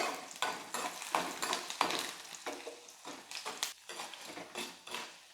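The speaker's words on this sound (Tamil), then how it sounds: "எல்லாம் எண்ணெயில் வந்து நல்லா வதக்கிக்கலாம்" Garlic and ginger sauté in oil in a pan, with a continuous soft sizzle and repeated scraping stirs of a utensil, fairly quiet and close, no talking.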